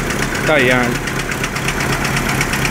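Noisy, worn engine of a 1995 Chevrolet Monza running steadily with a rough knocking idle, loud and close, while someone speaks briefly over it.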